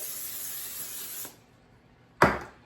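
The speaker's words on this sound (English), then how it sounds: "Spray the other side with the cooking spray." A steady aerosol hiss of cooking spray on chicken wings runs for over a second, stops, then a second short, louder spray burst follows after a pause.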